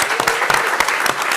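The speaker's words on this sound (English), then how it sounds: "Please give a round of applause for our amazing panelists." An audience at a political panel discussion claps for the panelists, a brief burst of close, crisp applause with distinct individual claps.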